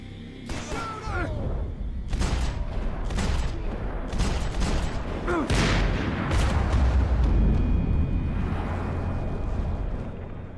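Gunfire in a shooter video game: dense bursts of automatic fire and heavy explosive booms crowd together over about ten seconds, loud and continuous with ringing tails.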